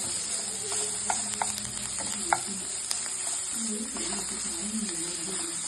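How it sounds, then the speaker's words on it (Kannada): Finely chopped raw mango frying in a pan over a low gas flame, a soft, even sizzle with a few light stirring scrapes and clicks, close and fairly quiet. "ಸಣ್ಣದಾಗಿ ಹೆರ್ಚಿಟ್ಕೊಂಡಿರೋ ಮಾವಿನಕಾಯಿ, ಗ್ಯಾಸ್ ಲೋ ಫ್ಲೇಮಲ್ಲಿ ಇಟ್ಟು ಹುರ್ಕೋಬೇಕು ಸಣ್ಣದಾಗಿ"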